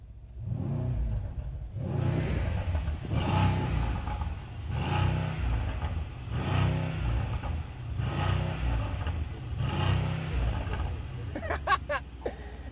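A Mercedes-AMG C63s coupé's 4-litre twin-turbo V8, rated at 503 horsepower, blips through about six sharp revs in a steady rhythm, close and loud, settling between each burst, with a short voice near the end.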